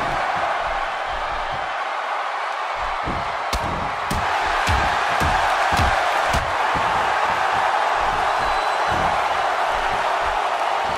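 A sold-out arena crowd in the WWE 2K16 wrestling game roars and cheers steadily, punctuated by sharp slams and impacts from the ring, with commentary voices talking over the noise.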